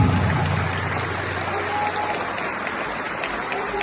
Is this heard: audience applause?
yes